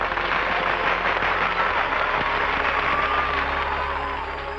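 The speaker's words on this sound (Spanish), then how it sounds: "Un aplauso para la Loquendera Moca." Applause welcomes a special guest, a dense, even patter of clapping hands from a crowd with faint cheers mixed in, steady and fairly loud for several seconds before easing slightly.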